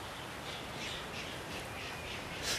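A young red-footed booby, the smallest of the gannet family, gives a few harsh squawking calls in Clipperton's largest coconut grove, set against steady wind or surf noise, with a louder call at the very end.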